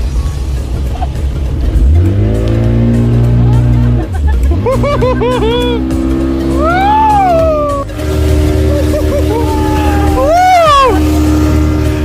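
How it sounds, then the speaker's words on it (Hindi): A loud speedboat engine on water roars and revs continuously, rising and falling in pitch, with voices and excited chatter over it. "मोटर बोट नहीं है, ऑल्दो स्पीड बोट राइड है"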